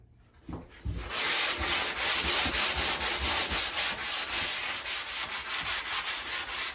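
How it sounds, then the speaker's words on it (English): A sanding block rubs over a drywall tape ridge in firm, rhythmic back-and-forth strokes, each pass a loud, gritty scrape, close up and with no talk. "So let me get my sanding block out and let's go for it."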